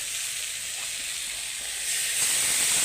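Rinse water from a mixing jar hits a hot pan of Bengali vegetable curry with turmeric, giving a steady close sizzle and hiss that swells louder near the end.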